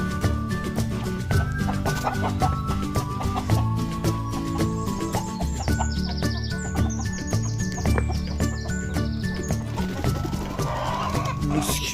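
Chickens clucking and calling at a backyard coop, busy and close, over steady rhythmic music, with a person speaking now and then.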